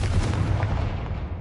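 A Confringo spell blast in Hogwarts Legacy: one heavy booming burst right at the start that rolls off and fades over about a second.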